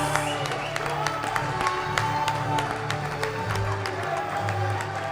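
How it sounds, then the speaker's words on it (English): Audience at an awards ceremony applauding after a chapter is named best of the year, a steady wash of clapping with some crowd noise and cheering, continuous and fairly loud throughout. "Can we have a big round of applause?"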